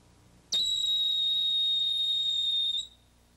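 A single sharp, shrill whistle blast held steady for about two seconds, loud and close, then cut off, in a quiet setting.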